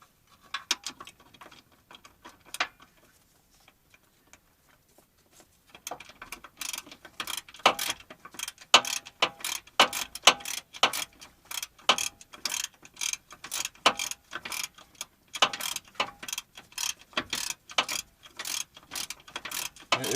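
A ratchet wrench clicks in quick repeated strokes, tightening a bolt behind the frame rail of a 2007 Chevy Suburban during an air-ride compressor install, starting after a few quiet seconds with faint isolated clicks.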